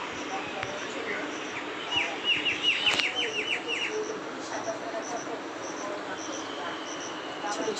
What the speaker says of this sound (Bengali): ছোট ছোট পাখি ডাকতেছে।